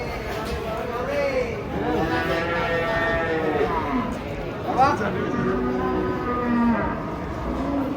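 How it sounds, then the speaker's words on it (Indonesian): Giant cattle moo repeatedly in long, drawn-out calls as they are unloaded from a truck, with people chattering in the background throughout. "Sebelah sini ada sapi raksasa guys."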